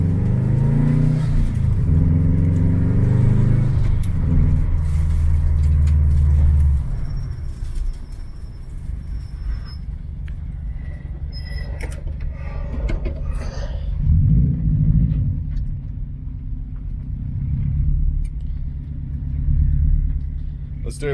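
Subaru GC8 RSTI with a CAE Ultra Shifter pulling hard at speed, a deep engine roar dropping as gears change, then steady rumble with surges of revving, while the driver talks over it.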